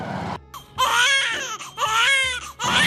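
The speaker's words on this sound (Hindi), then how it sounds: "बालक रोने की आवाज आओ है।" An infant wails close up in loud, rising and falling bursts separated by brief breaths, with a low hum behind it in an indoor scene from a Haryanvi family drama.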